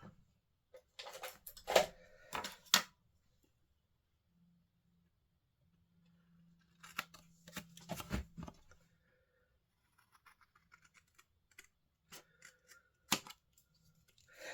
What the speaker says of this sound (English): I'll have to use my scissors for that.